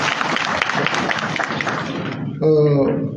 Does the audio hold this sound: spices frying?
no